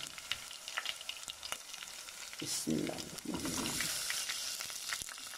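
Tomatoes tipped into hot oil with frying garlic and ginger for daal maash, a steady sizzle with a brief louder burst as they land, then continued crackling frying and stirring, close and alone.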